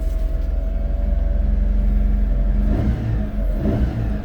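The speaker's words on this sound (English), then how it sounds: "So let's lift the dump up." A high and low 5-speed PTO dump truck with 61,427 kilometers runs its engine steadily while raising the dump bed, a close, continuous low drone that shifts and wavers near the end.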